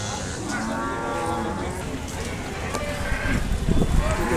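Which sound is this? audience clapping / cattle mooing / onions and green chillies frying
cattle mooing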